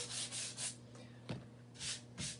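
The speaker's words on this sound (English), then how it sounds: "just a little bit of light sanding" Light strokes of sandpaper rubbing wood, a few brushing passes with short pauses between them, close and fairly soft.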